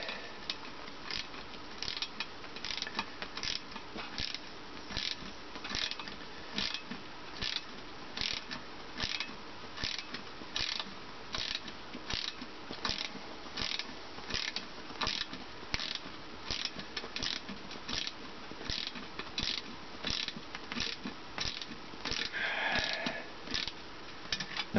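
Bolts tightened with a ratchet wrench while mounting a 600 watt PMA wind turbine outdoors, a long steady series of quick clicking ratchet strokes in a regular rhythm, close by and moderately loud, with no voices.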